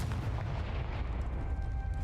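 Confringo fire spell explosion in the video game Hogwarts Legacy: a deep, heavy booming rumble that rolls on steadily for about two seconds, with no talking.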